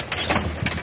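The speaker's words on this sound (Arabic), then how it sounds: "هاي دخلنا عند العصافير والهزاز طالع فوق ياكل اكلات العصافير" Pigeons coo softly in a bird loft in Irbid, Jordan, with a few short, murmuring coos close by over a hazy background of rustling.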